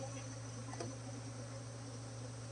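Honey bees humming at an open hive during a colony split, a steady low, faint drone with a constant tone and no voices.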